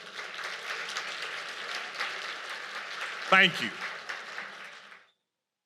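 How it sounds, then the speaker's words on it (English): An audience at a business and technology event claps steadily for several seconds, a dense moderate wash of applause, with someone speaking briefly over it before it cuts off. "Would you please give yourselves a round of applause?"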